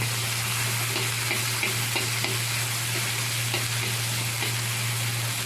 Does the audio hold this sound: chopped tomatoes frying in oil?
yes